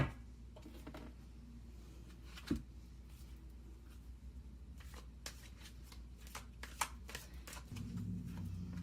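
Angel Answers oracle cards shuffled by hand, a steady soft riffling patter with a few sharper snaps, close and fairly quiet, with no talking.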